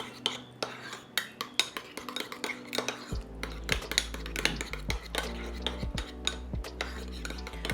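Dill relish being stirred into a burger sauce with a spoon makes a run of close clinks and scrapes against the bowl in an irregular rhythm, with soft squelching mixing underneath.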